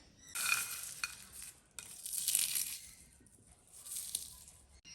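Crunchy salted peanuts, Bharuch-style khari sing roasted in a microwave, rattle and scrape as they are stirred, in three bright, gritty bursts that rise and fade, close and fairly loud with no talking.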